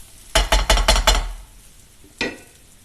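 Small onions cooking in a pan, stirred with a utensil: a quick run of five loud, close scraping and clinking strokes, a pause, then one more stroke.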